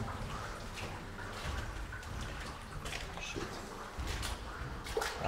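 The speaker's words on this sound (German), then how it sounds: "Und überall läuft hier das Wasser in die Hütte rein." Water running and dripping into a flooded brick bunker, a quiet, continuous trickle with scattered drips and splashes echoing faintly in an enclosed space.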